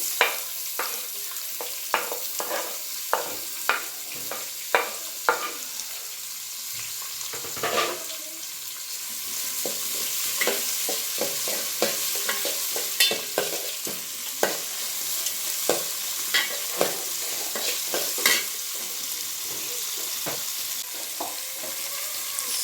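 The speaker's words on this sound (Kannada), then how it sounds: "ಈರುಳ್ಳಿ ಒಂದು ಸ್ವಲ್ಪ ಎಣ್ಣೆಯಲ್ಲಿ ಚೆನ್ನಾಗಿ ಫ್ರೈ ಆಗಲಿ" Onions, green chillies and peanuts fry in oil in a pan while a spoon stirs repeatedly, making a steady close sizzle punctuated by frequent sharp scraping clicks and taps.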